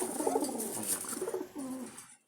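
Jalali pigeons coo close by in soft, throaty rolling calls, a couple of phrases in quick succession before trailing off.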